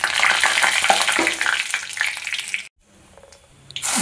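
Mustard seeds, curry leaves and two or three dried chillies crackle and sizzle loudly in hot white oil in a kadai, a dense spattering that cuts off abruptly to near silence, then returns.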